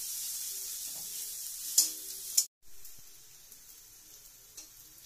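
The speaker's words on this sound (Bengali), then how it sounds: "হলুদ, এই 1 চামচ দিয়ে ওটাকে আবার নাড়াচাড়া করা হচ্ছে।" Spices with turmeric frying and being stirred in a pan for homemade biryani, a bright steady sizzle with a few sharp clinks of the spoon, a brief cut to silence, then softer sizzling.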